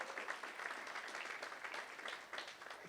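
Guests at a university sports gala awards ceremony give a brief burst of clapping for a named athlete, many hands at once, steady and moderately loud, easing slightly toward the end.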